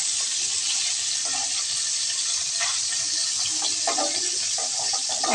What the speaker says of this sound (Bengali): এক এক করে সব মাছগুলো আমি ভেজে নিলাম